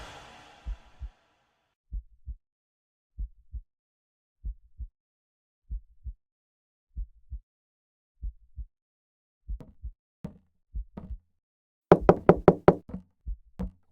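Someone knocks on a door in evenly spaced pairs of dull thuds, close and otherwise quiet, ending in a louder, faster burst of rapid knocks.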